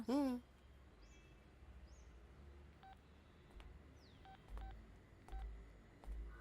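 A telephone number is dialed, a short run of tones at intervals heard faintly over a quiet room, with an opening burst of sound and soft background noise between presses.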